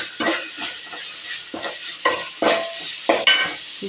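Vegetables for broad bean sambar sautéing in a pan, a loud close sizzle broken by rhythmic scraping strokes of a spoon stirring them around.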